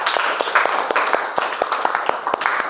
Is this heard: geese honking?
no